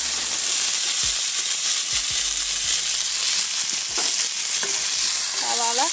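Sliced onions sautéing over a medium flame for curd chutney, a loud continuous sizzle with repeated spoon scrapes and stirring knocks against the pan, close and without talk.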